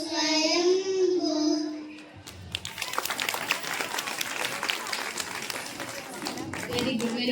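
An audience at a Kuchipudi dance program at the Srisailam temple breaks into applause after a sung passage ends, a dense wash of clapping that runs steadily for several seconds and stays fairly loud.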